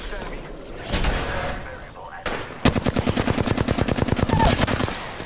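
Video game gunfire: a few single shots, then a sustained rapid automatic burst of evenly spaced rounds, loud and close, with faint voices underneath.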